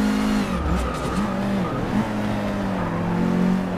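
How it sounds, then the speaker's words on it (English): A V8 race car engine roars in the Forza 6 racing game at Brands Hatch, its pitch rising and dipping through gear changes with tire squeal and skidding, loud and close throughout. "That looks like a V8 car."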